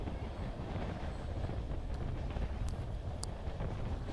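A train runs through the Vindhyachal range in India with a steady, rumbling clatter of wheels on rails, heard from on board, with wind buffeting the microphone and a few faint clicks.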